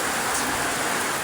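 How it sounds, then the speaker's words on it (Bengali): Heavy rain pours down in Dhaka as a dense, continuous hiss that is loud and close, with no voices over it. "কত বৃষ্টি দেখেন"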